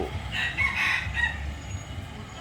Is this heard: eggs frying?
no